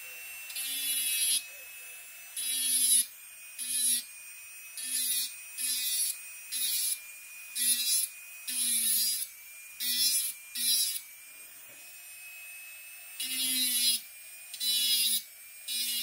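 An electric nail drill fitted with a small cuticle-prep bit buffs the nail plate of a practice hand, its high buzzing whine switching on and off in short bursts of about a second, close and clear, over a faint steady tone.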